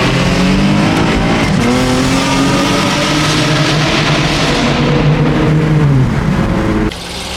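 Supercharged V8 cars rev loudly at a car club event, a close, continuous roaring engine drone with pitch sweeps up and down before cutting off near the end.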